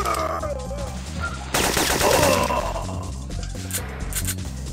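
Rapid bursts of gunfire in the video game Syphon Filter, dense repeated shots rattling over a pulsing game soundtrack, loudest in the middle stretch.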